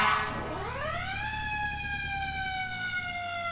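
An emergency vehicle siren in the video game EmergeNYC winds up from low to high pitch, then holds a loud, steady wail that continues without pause.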